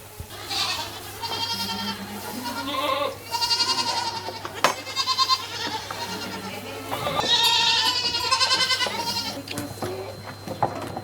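Young goats bleat loudly and often on a French goat farm, with several overlapping cries close by and a steady hum underneath.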